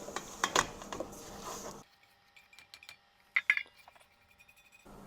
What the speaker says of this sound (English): Okay, so now we're putting it all in the pot.